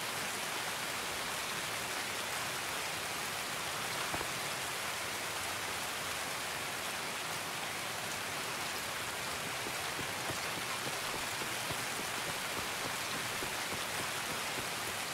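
Heavy rain in the video game Escape from Tarkov, a dense, loud, unbroken hiss of downpour with no pauses and no voices.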